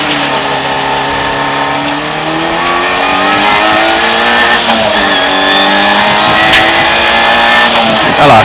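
Skoda Felicia rally car revving hard as it launches from the start of a gravel rally stage, engine climbing through rising gear pulls, loud and close, steady throughout with no talk.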